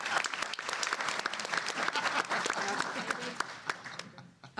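Sustained applause from a conference audience at a New Jersey education legislative panel, steady clapping throughout that thins toward the end, with some voices mixed in.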